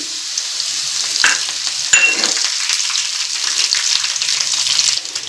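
Curry leaves hit hot oil with browned peanuts, bursting into a sharp crackling sizzle and spatter that keeps hissing loudly, with stirring scrapes and no voice.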